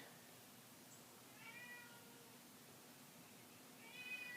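A house cat meows faintly indoors in a quiet room, with one soft meow early on and a second, slightly louder one near the end over low steady background hiss.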